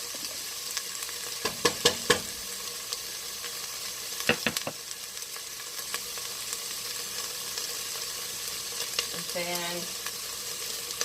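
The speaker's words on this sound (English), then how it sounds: "when I saute my rice" Rice sautéing in a pot with salami for Puerto Rican arroz con gandules, a steady close sizzle broken by a few sharp clacks of a spoon stirring against the pot, with a brief voice near the end.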